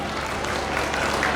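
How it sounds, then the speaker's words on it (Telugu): Crowd at a school annual day dance performance claps in a continuous, dense wash of applause, fairly loud and even with a faint murmur of voices beneath. "సో గట్టిగా క్లాప్స్ ఒకసారి"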